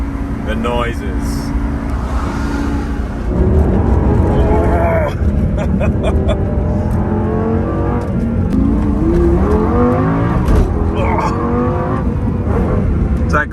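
A Lamborghini Gallardo Gen 1 Superleggera engine rumbles and revs loudly nearby in repeated rising sweeps, with an excited voice talking over it at times.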